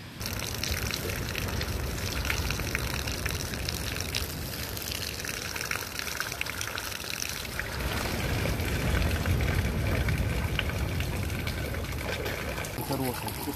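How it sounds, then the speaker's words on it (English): Coconut water from freshly cut coconuts is poured into bottles outdoors on a bay hike, a continuous gushing and trickling splash that runs steadily throughout, close and fairly loud. "now I just cut in the coconuts and fill them into the bottles"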